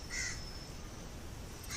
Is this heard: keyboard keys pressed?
no